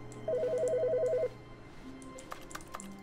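A telephone rings in the video game The Stanley Parable, giving one electronic trilling burst of about a second, followed by quieter game sounds with no talking.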